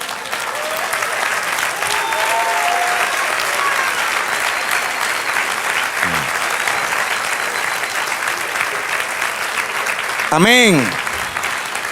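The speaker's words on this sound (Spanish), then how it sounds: "Sí, dale un aplauso." A church congregation breaks into loud, sustained applause during a Spanish-language sermon, steady clapping throughout with a brief spoken response and a voice rising near the end.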